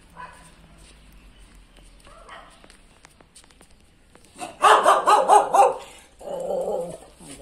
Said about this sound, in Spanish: Se enfada el perro.